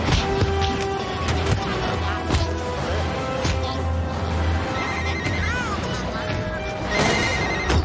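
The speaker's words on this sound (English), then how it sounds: "It's ringing, but no one's answering." Cartoon telephone ringing with repeated bell trills over busy background effects and music, with a voice briefly heard in the scene.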